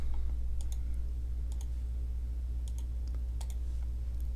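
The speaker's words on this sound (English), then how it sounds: "click total of 8 times" Computer mouse clicking, about eight light, sharp clicks spaced in small pairs and singles over a steady low hum, close and crisp with no talk.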